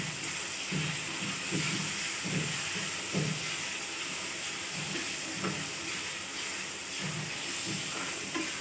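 Prawns with tomato, salt, chilli powder and turmeric roasting in a pan give a constant hissing sizzle, broken by soft low bumps of stirring at irregular intervals, with no talk.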